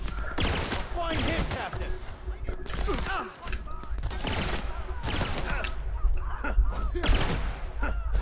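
Bursts of rapid gunfire in the video game The Outer Worlds, repeated volleys of shots at mid distance mixed with game ambience and occasional in-game voices talking.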